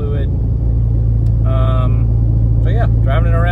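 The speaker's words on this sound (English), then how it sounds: "So yeah, driving it around now, it seems to be doing fine." Jeep Grand Cherokee WK2 SRT8 being driven after a transfer case replacement, a loud steady low engine and road drone throughout, with brief voice-like tones over it.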